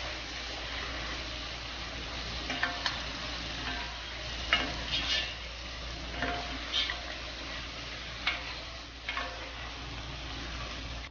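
Mumbai biryani masala being stirred into mutton in a cooking pot for biryani: low continuous sizzling with intermittent scraping stirs and faint clicks, close and steady, no voices.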